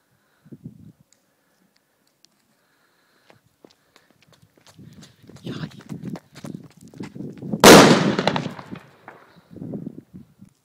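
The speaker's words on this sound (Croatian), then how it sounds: "danas ćemo isprobati TNT dinamit, kako to puca" A single sharp, loud bang of a TNT dynamite-style firecracker at night, preceded and followed by scattered footsteps and rustling nearby.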